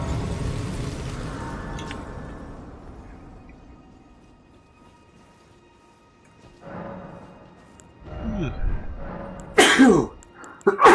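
A person sneezes near a microphone during a co-op Elden Ring gaming session, a sharp burst near the end after quieter noises and a fading game sound earlier, with no talking.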